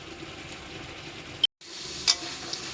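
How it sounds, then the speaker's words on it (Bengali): Curry masala sizzles softly in a frying pan while being stirred, a faint, steady fry with a couple of light scraping clicks from the spoon and a brief dropout partway through. "এখন আমরা নাড়াচাড়া দিয়ে কষাবো।"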